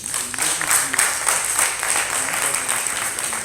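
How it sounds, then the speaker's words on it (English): Audience applause at a public forum on education, a dense round of clapping from a sizeable crowd that holds steady for several seconds and is fairly loud and close. "give yourselves a big round of applause"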